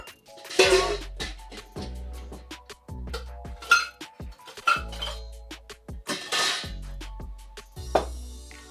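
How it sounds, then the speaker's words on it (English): Ice cubes clink and rattle as they drop one after another into a metal cocktail shaker, a run of sharp, irregular knocks and jingles close up with no talking. "So what you want to do is put in 45 ice cubes."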